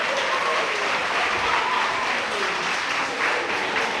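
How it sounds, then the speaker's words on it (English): Sustained applause from an audience at Grand Bay Primary School in Dominica welcomes Prime Minister Roosevelt Skerrit, a dense, even wash of many hands clapping throughout at a steady, fairly loud level with no voices standing out. "Let us give him a round of applause as a welcome."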